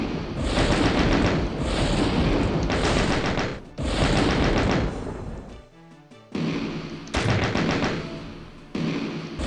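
Bolt weapon firing rapidly in the horror video game Die Bücher Luzifers, a loud, dense burst of repeated shots that drops out briefly mid-way, then resumes in sharp successive volleys with no voices.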